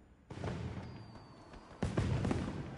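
Two muffled booms of fireworks in the Monster Hunter video game, a softer burst followed by a louder one about a second and a half later, each trailing off in a rumbling decay.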